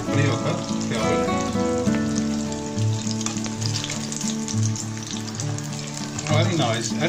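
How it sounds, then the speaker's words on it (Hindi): Egg pakoras deep fry in hot oil with a dense, continuous bubbling sizzle, heard under steady background music throughout. "egg pakora are frying very well and should be ready in a couple of minutes"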